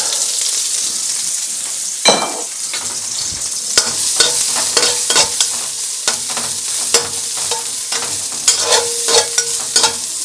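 Red and green chilies, ginger and garlic hit an oiled wok with a sudden loud sizzle, followed by a sustained fry broken by repeated scraping and clattering of a utensil stirring the aromatics for a Chinese-style green bean dish.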